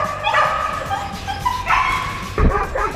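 Active puppies barking and yipping at an animal shelter, several short sharp bursts repeating over a few seconds at close range, with background noise and no clear talk.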